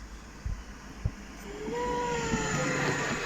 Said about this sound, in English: We have a tram bound for Toton Lane